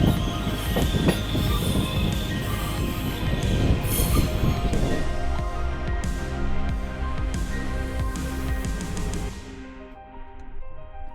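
A train rolls past on a single-track line in Norway, heard from inside a stopped overnight train between Oslo and Trondheim: a loud, sustained rumble of wheels and wagons with squealing, easing off toward the end.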